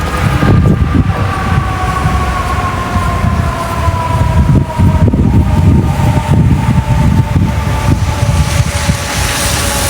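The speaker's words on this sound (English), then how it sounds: "That siren is just, it's gonna be the fire department." A New York City fire department siren wails on a cold winter night, steady drawn-out tones rising slowly over loud street rumble and wind buffeting the microphone, with no talking.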